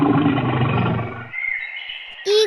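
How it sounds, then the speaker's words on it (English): A bear roars loudly and alone in a broad, rough growl that trails into a thinner sustained tone, followed by a brief bright call at the very end. "Bear."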